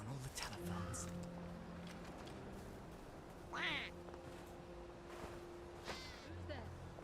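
Rubber ducks squeak out a few scattered quacks in the park of the video game We Happy Few, over game ambience with a voice talking.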